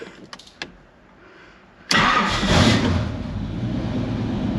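A Lamborghini Countach with a manual clutch cranks and fires up after a few faint clicks, then settles into a loud, rough, throaty idle that stays close and steady.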